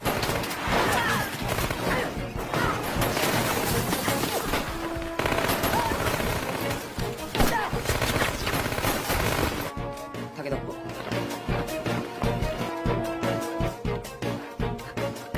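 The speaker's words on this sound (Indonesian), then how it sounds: "Tidak lama dari itu, pasukan NIS datang dan terjadilah baku tembak." Film shootout with soldiers exchanging fire: dense, continuous machine-gun bursts and rapid gunshots crackle throughout, loud and close, with a narrator's voice talking over the battle.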